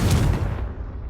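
A Confringo fire spell goes off in Hogwarts Legacy as a short, loud blast with a booming low rumble that trails away over about a second.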